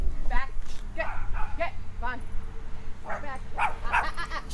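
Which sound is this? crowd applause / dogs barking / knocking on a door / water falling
dogs barking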